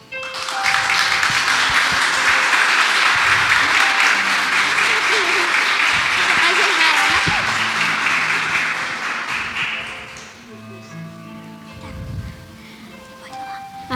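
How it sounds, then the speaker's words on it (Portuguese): A church congregation applauds during a Sunday service tribute, a loud, dense wash of many hands clapping that holds steady for about ten seconds before fading into quieter room sound with faint voices. "Você pode aplaudir?"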